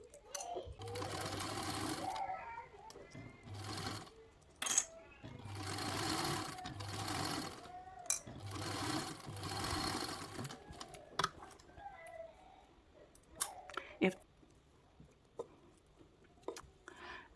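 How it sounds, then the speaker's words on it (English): A sewing machine top stitches along the long edge of fabric at a narrow seam allowance, running in several bursts of rapid, steady needle clatter with brief pauses between them, followed by quieter handling of the fabric. "I'm going to top stitch just along the long edge at 1/8 seam allowance"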